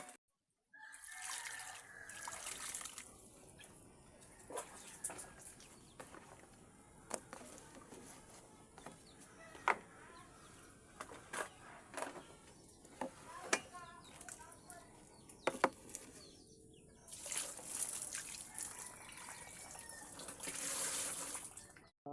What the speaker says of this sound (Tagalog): hugas-hugas lang ako ng plato dyan